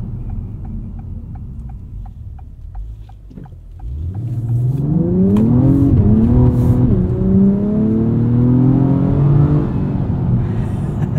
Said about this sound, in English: This 3-liter V6 does sound pretty good from inside the cabin.